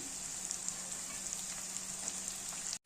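Onions and bean pieces frying with salt in a pan give a steady, close sizzle with soft crackles throughout, cutting out abruptly just before the end; no one speaks.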